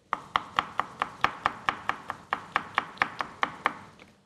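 A knife chops a green pepper into small pieces on a cutting board in a kitchen, making about seventeen crisp, evenly spaced close knocks in a quick, steady rhythm.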